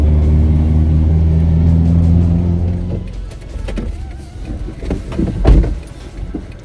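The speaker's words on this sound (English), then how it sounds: "I want to drive this section of road, which is like one that I drive all the time" A Toyota Tacoma truck drives along a road, a steady loud engine and road rumble for about three seconds that then turns rougher and more uneven, with bumps and knocks inside the cab.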